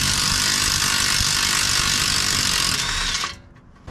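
An impact wrench works on a tie rod, giving a loud, continuous buzzing whir held steady for over three seconds before cutting off abruptly into near silence.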